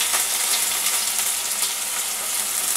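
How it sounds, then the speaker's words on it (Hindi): Chopped onion crackling in hot oil with fenugreek, red chili and bay leaf, giving an even, close, hissing sizzle that holds steady without a break. "इसमें डाल दूंगी ये कटा हुआ प्याज"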